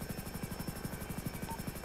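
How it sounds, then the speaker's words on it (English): Police helicopter flying overhead during a pursuit, its rotor beating in a fast, steady chop that stays fairly faint and constant throughout. "That chopper's definitely faster than us."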